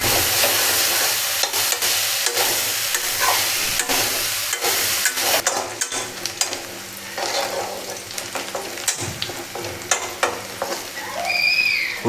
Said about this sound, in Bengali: পেঁয়াজটি একটু ভাজা ভাজা হয়ে গেছে গা